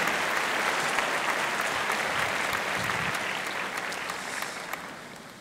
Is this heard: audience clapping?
yes